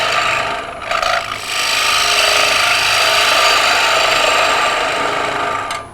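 A tool cuts across spinning wood on a lathe as a ring bowl is turned, producing a loud, continuous, rushing scrape with a brief stutter near the start.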